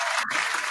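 Audience applause for a performing group on a music mixshow, a dense continuous wash of clapping that fills the whole short moment at steady loudness with no talk over it.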